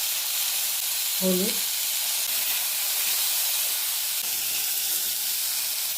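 Sweet potatoes drop into hot oil already spiced with dried red chilli and mustard seeds, giving a steady broad sizzle throughout, with a brief voice near the start.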